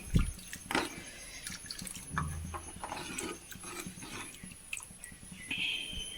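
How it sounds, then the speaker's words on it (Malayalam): Hot water is poured into tamarind rasam in a pot, giving soft splashes and drips mixed with light clinks and knocks of the vessel, fairly quiet and close. "ആവശ്യത്തിന് വെള്ളം ചേർക്കാം"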